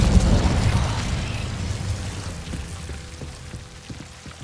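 The Incendio fire spell is cast in Hogwarts Legacy: a loud, rushing fiery burst opens the moment, then fades into softer crackling with scattered faint ticks.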